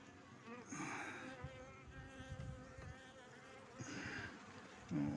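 Honeybees buzz steadily around a hive frame with brood and pollen, a close, continuous insect drone rising and falling as individual bees pass near, with no talk.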